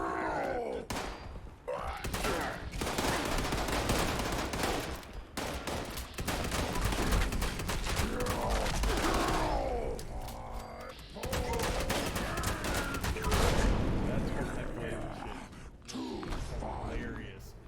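Double-barrel shotgun fired repeatedly in a video game, sharp booming blasts in irregular bursts with thuds and impacts between, loud and dense over game noise.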